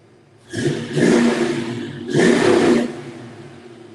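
A car engine revved twice while parked on a road trip to Foxtoberfest, each a loud, close roaring surge of about a second and a half with a brief dip between.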